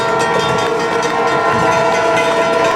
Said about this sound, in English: There's the train horn.